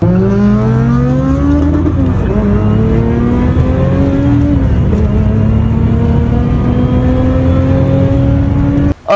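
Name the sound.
Honda Brio K24 car engine driving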